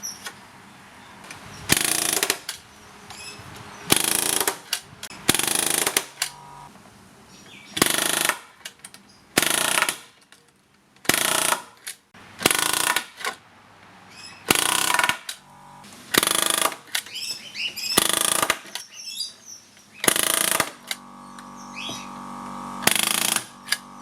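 A Simpson Strong-Tie connector nailer drives nails through double shear joist hangers into floor joists, with loud, sharp mechanical bursts repeating about every second or two and brief quiet gaps between shots.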